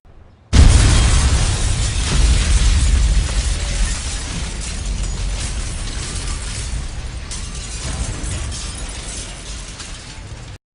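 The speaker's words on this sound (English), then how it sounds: "I didn't get time to finish, as a strong rumbling erupted" A loud explosion bursts in suddenly, then fades into a long, heavy rumble with crackling debris, sustained and gradually fading over several seconds.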